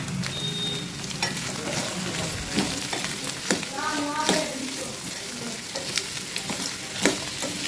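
Carrots fry in oil with onions for a carrot stir-fry, giving a loud, close sizzle broken by scraping stirs and sharp crackles and pops scattered across the steady hiss.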